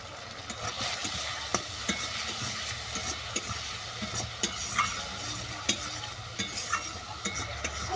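Taro with chili powder and slit green chilies sautéing in oil in a pan for a Bengali fish curry, a soft continuous sizzle with light, regular spatula scrapes and taps repeating through, fairly quiet and without voices.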